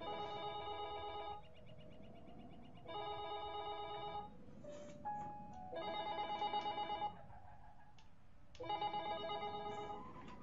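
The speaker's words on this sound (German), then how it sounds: "Telefon." A telephone rings in repeated bursts of electronic tones, four rings with short gaps between them, fairly loud and close, with quieter background game sounds underneath and no talking.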